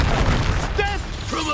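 A Confringo spell explodes in the Hogwarts Legacy video game, a short, dense boom over a rumbling game soundtrack that lasts barely more than a second.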